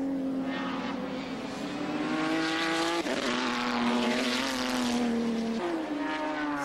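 Engines of GT race cars, including Nissan Skylines and a McLaren, on the circuit at Fuji after a restart in the 1996 All Japan GT Championship. They drone steadily with rising and falling pitch, loud and continuous, with no talk.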